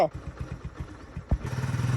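A motorcycle with smoke pouring from its exhaust silencer idles nearby in quick rhythmic chugging pulses, then a single thump before it settles into steadier running, with people talking over it.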